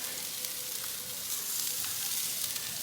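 NY strip steaks, cut rather thin, sizzle steadily over a charcoal grill, a continuous close crackling fry with no talking.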